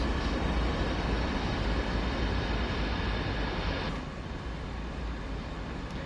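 An intermodal freight train passes on Sand Patch Grade in the Train Sim World 2 video game, a steady, loud rolling rumble with a constant high whine that drops in level partway through, with no talking.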